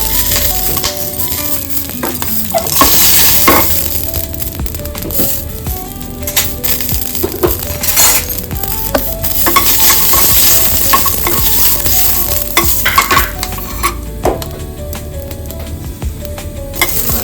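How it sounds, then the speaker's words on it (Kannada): Green chillies fry in hot oil in a pan, giving a loud, continuous sizzle broken by repeated scraping and clinking as a utensil stirs them, with no talk. "ಒಂದೆರಡು ನಾಲ್ಕು ಮೆಣಸಿನ್ಕಾಯಿ ಹುರ್ಕೊತಾ ಇದ್ದೀನಿ ಹಸಿ ಮೆಣಸಿನ್ಕಾಯಿ"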